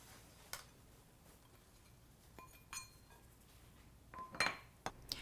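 Light clinks and scrapes of a utensil against a bowl while a quinoa salad with cilantro is stirred, a few sparse, faint taps and clicks over quiet room noise.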